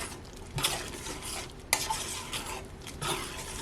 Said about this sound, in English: Let's just stir this in.